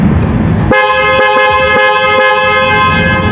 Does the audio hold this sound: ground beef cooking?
no